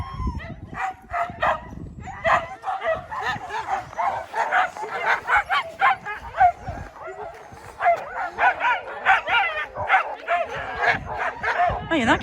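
An eager team of sled dogs keeps up a steady chorus of high yips, barks and whines, close and continuous, with occasional voices mixed in.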